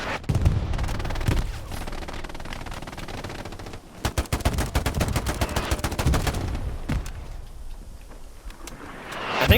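Hell Let Loose battle with close, rapid machine-gun bursts and scattered gunshots amid a grenade explosion and ambient war noise, loud and continuous across the stretch.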